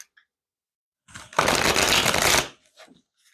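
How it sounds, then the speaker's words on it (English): A quick burst of tarot cards being riffle-shuffled, about a second long, close and crisp, with faint handling sounds before and after. "Let me shuffle one more time."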